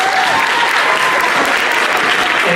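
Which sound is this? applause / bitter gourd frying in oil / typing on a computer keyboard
applause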